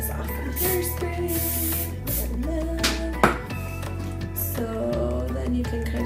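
Hairspray is sprayed onto hair during curling with a straightener, bursts of sharp close hissing that come and go over several seconds, mixed with tonal background sounds, with no talk.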